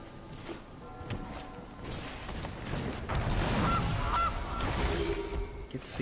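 A goose honks in the Magic: The Gathering Arena card game, with a couple of short honking calls over a dense, steady bed of game music and effects.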